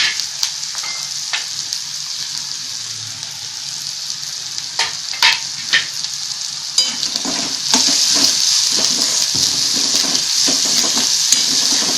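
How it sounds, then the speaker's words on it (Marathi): Chopped onion sautéed with a pinch of salt in a pan for a peanut mhadya dish, a steady close sizzle running throughout, with stirring scrapes and a louder frying hiss in the later seconds. "कांदा जरा परतून घेऊया आपण"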